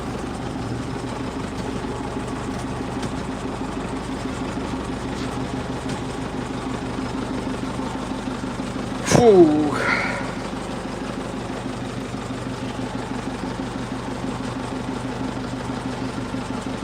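A tractor engine drones steadily while it works a field during spring seeding, with a low idling rumble throughout. A short burst of louder mechanical noise comes midway, and a man exhales once.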